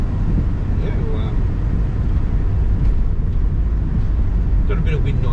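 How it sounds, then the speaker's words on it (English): Steady wind and road roar inside a moving turbo manual car with pillarless doors, a constant loud low rumble throughout with a faint voice underneath. "got a bit of wind noise. I think that's pretty common actually with the pillarless doors."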